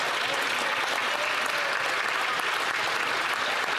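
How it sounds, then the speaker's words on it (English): Conservative MPs in parliament break into sustained applause, a dense, steady clatter of many hands clapping together without pause, filling the chamber evenly from start to finish. "All the Conservatives are applauding him for taking the stand."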